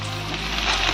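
Potatoes frying in hot oil with lotus stems added, a close, continuous sizzle and crackle that holds steady throughout, loud and alone with no talk.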